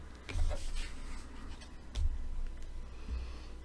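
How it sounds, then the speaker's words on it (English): Tarot cards being pulled from a deck, soft repeated sliding and scratching rustles with a few slaps of cards set down, close and fairly quiet, no talking. "I'm going to pull some more cards"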